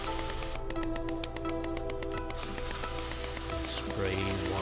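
Spray paint tool from the Such Art! PC painting app hisses in a burst of rapid pulses for about two seconds, over a steady musical game background.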